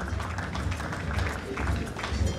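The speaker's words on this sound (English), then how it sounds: "put your hands together for the Nigerian ambassador" Audience applause at a 2018 gala honouring the Nigerian ambassador, a steady dense clapping from a crowd filling the room, fairly close and continuous.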